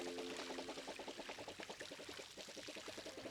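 Watering can pouring over apple trees in the video game Palia, a steady splashing trickle of water with rhythmic bubbling pulses, close and continuous throughout.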